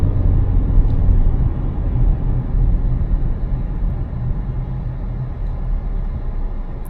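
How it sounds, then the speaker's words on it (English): A 2019 Nissan Rogue SUV accelerating up a hill, heard from inside as a steady, loud low engine and road rumble that holds evenly throughout, with no talking. "Some nice acceleration up this hill."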